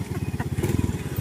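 A motorcycle engine idles nearby with a steady, rapid pulsing putter that holds constant throughout.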